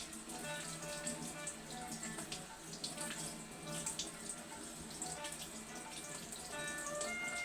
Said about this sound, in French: on va bien laver la carotte. Un peu d'eau.